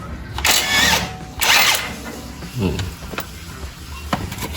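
A pneumatic or electric impact wrench loosens a size 19 tie rod nut on a Honda HR-V, giving two short loud whirring bursts followed by a few faint clanks and taps in a workshop.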